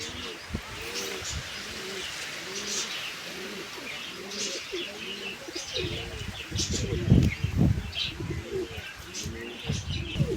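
Pigeons sitting near a nest coo in repeated soft rolling phrases, several birds overlapping close by, with faint chirps and a brief flutter of wings in the background.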